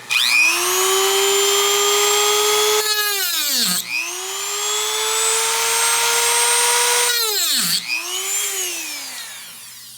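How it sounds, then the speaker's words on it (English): A Dremel rotary tool cuts through model railway track in two long passes. Each pass is a loud, steady high-pitched whine that spins up, holds, then winds down with a falling pitch before the next cut starts. "got the Dremel ready, got the safety goggles on, ready to make the cut over here"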